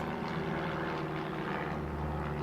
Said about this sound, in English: The aeroplane's back over